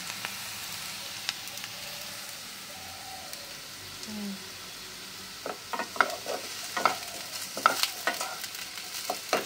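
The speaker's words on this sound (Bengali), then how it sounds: "আর একটু ভাজা হবে, সুন্দর করে ভাজবো" Food frying in a pan for home-cooked chowmein: a soft, steady sizzle with scattered clinks and scrapes of stirring that grow busier toward the end, no talking.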